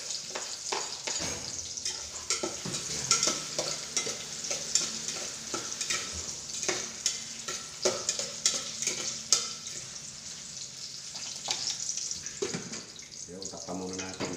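Garlic and onion sauté in oil in a pan with a continuous sizzle, while repeated scrapes and clicks of stirring come through close and moderately loud. A faint trace of running water is mixed in.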